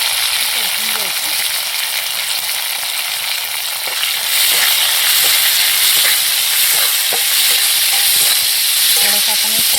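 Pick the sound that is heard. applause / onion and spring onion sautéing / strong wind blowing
onion and spring onion sautéing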